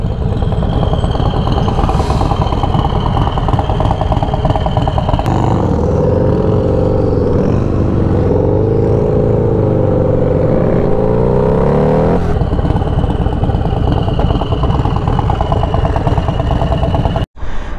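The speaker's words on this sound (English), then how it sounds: "he's the new proud owner of this motorcycle" A turbocharged Harley-Davidson M8 Road Glide rumbles loud and close in El Paso, Texas, its engine revving up in a sustained surge midway through before settling back to a steady idle, all under heavy wind and road noise.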